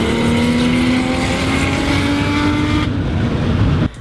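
A red Porsche drives past with a loud, sustained engine roar and rising tone, close and steady before cutting off abruptly near the end.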